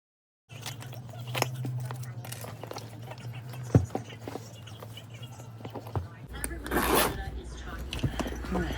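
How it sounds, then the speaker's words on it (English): Zipper on a new summer bag being slid open and shut, with close, rasping strokes and small clicks over a low steady hum. "Zipper slide"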